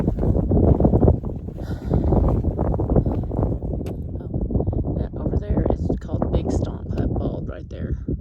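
Strong wind buffets the microphone on an exposed Appalachian Trail mountain top, a steady, loud roaring rush that persists the whole time with brief gusty swells.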